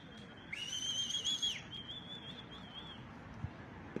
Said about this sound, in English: Some whistles by the Pirates